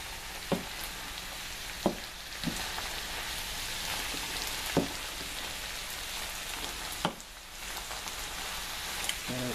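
Spinach, garbanzo beans and sauce sizzle steadily in a pan for a Seville-style tapas dish, with a handful of sharp spoon clicks and scrapes as the mixture is stirred, all close and alone with no talking.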